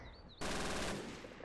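Machine gun fire in Arma II during a D-Day beach invasion: a sharp burst of rapid automatic shots erupts after a brief quiet moment and then trails off into rattling echoes.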